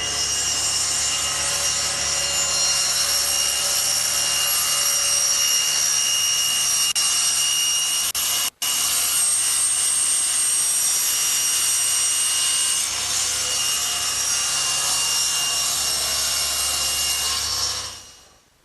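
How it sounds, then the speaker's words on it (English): A table saw slowly plunge-cuts a slot into a wooden workpiece guided by the fence, a loud steady whine that runs continuously for most of the stretch, with one momentary dropout midway, then winds down at the end. "by using the fence as a guide and slowly plunging the piece over the blade, I can cut out my slot"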